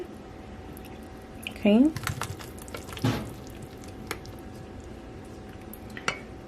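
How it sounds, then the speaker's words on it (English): Apple pie filling is spooned into the pie crust, giving a few soft, wet squishes and a light clink or two in a quiet kitchen, with one brief spoken word. "now I'm going to add my apple pie filling"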